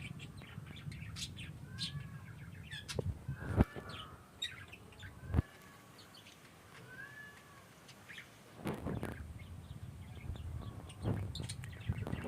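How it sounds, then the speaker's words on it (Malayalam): Lovebirds chirp and tweet in short bright bursts, several birds calling near the microphone with brief gaps of quiet between flurries. "അപ്പോഴത്തെ ലവ് ബേർഡ്സ് ആണ്."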